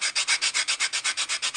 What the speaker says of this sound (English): I've got this little sanding block here that works pretty well for me